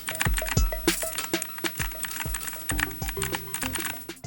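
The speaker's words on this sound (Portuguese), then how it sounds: "Deixe aí também nos comentários o que vocês acharam da sonoridade desse teclado." Typing on a Pichau P531 RGB keyboard fitted with white pudding keycaps, a close, irregular run of clacky key presses with a few heavier thocks, alone without speech.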